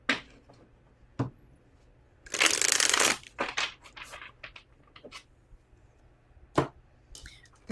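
Tarot cards shuffled by hand in crisp papery bursts, one long riffle in the middle flanked by shorter slaps and flicks, close and fairly quiet with no talking.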